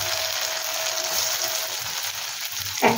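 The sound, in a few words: spinach paneer koftas frying in hot oil in a wok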